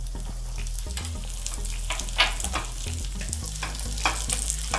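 Raisins fry in a pan of hot fat for boondi ladoo, giving a close, steady sizzle with soft crackles and occasional stirring scrapes.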